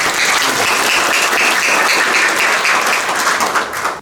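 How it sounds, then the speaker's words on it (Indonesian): Loud, steady applause from an audience at a student regiment commander installation ceremony in NTT, Indonesia, welcoming a guest, sustained dense clapping for about four seconds before tapering slightly. "Kita berikan tepuk tangan dulu buat Pak."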